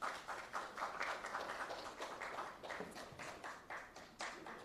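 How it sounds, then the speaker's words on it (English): Faint, scattered applause from an audience at a government contract signing ceremony, a thin patter of individual claps at a distance. "a round of applause, please"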